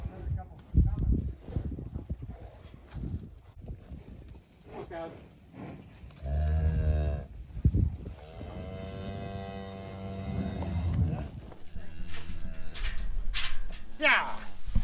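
Cows and calves on an Iowa farm moo as they are loaded into trailers, with several drawn-out calls mixed among people talking and shouting throughout.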